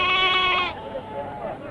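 A single lamb gives one drawn-out, wavering bleat at a sheep market, close and loud, fading into quieter background murmur.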